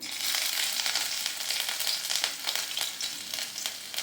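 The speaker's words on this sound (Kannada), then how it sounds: "ಸೊ ನಾನು ಮೊದಲಿಗೆ ಫಸ್ಟು ಶುಂಠಿ ಹಾಕ್ಕೊತೀನಿ" Chopped ginger hitting hot oil in a pan, a bright, close, continuous sizzle with crackling pops for a few seconds and no voices.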